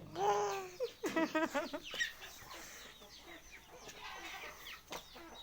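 A chicken clucks close by in a run of quick bursts, with a voice and other faint voices mixed in around it.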